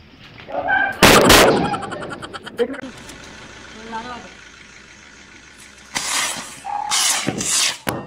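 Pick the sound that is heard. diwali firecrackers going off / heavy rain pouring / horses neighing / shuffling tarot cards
diwali firecrackers going off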